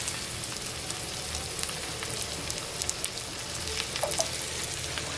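Surmai fish frying in hot oil on a tawa, a soft, steady crackling sizzle with scattered pops, fairly faint and close, without voices.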